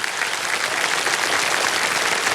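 A studio audience on a TV quiz show claps for a contestant, a steady, fairly dense round of applause with no break.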